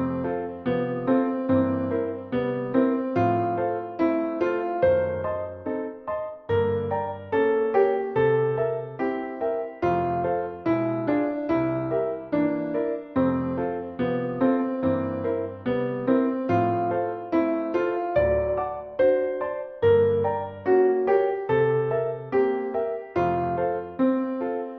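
MuseScore piano playback with no sustain pedal: a continuous melody of distinct, detached notes over a chordal accompaniment, each note ending cleanly with no ringing, steady and fairly loud.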